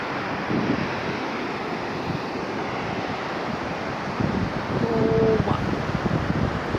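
Steady broadband roar of surf washing onto Padukare beach near Saligrama, Udupi, Karnataka, mixed with wind buffeting the microphone, swelling slightly louder toward the end.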